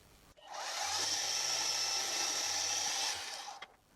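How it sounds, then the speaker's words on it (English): A cobalt drill bit bores a half-inch reamed hole through a cast iron tool post base casting, a steady close whining grind lasting about three seconds, starting and stopping cleanly. "my nice cobalt drill should have no problem going through cast iron"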